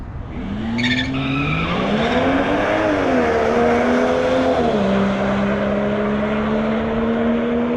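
A tuned Volvo S60 T6 with a Stage 2 setup launches down a quarter-mile drag strip, its engine roaring loud and close as the pitch climbs steadily, with clear gear shifts partway through before it settles into a sustained high drone.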